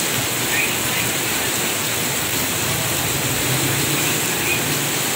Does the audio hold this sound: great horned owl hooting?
no